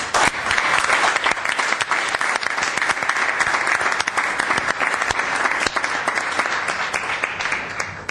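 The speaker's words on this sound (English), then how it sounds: "A round of applause" Steady, dense applause fills a city council chamber after a new city manager is appointed, continuous and fairly loud throughout without pause.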